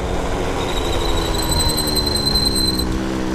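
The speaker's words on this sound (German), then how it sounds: "Ja, jetzt richtig Mofa-Sound." A tuned, modified moped engine drones steadily at close range, with a thin high whine riding over the buzzing exhaust and no talking.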